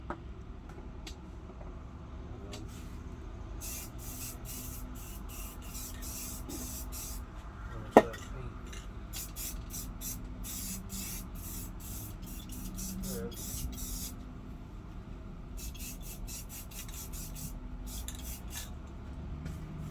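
Spray paint hisses from an aerosol can in repeated bursts, some short and some a few seconds long, as car wheels and lug nuts are painted, close and steady over a low ambient hum, with one sharp click partway through.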